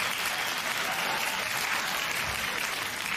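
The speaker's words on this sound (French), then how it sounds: "On donne une bonne petite main d'applaudissement." Dense, loud studio audience applause on a French-language TV show, a continuous wash of clapping from many hands without a break.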